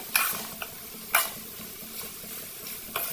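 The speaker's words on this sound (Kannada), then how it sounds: "ಇದನ್ನು ಹಾಕಿ ಚೆನ್ನಾಗಿ ಕಲಿಸ್ಕೊಳ್ರಿ" Tomato chutney is stirred with chili powder in a pan, giving a soft bubbling sizzle broken by a few sharp scraping clinks of the utensil, with no talking.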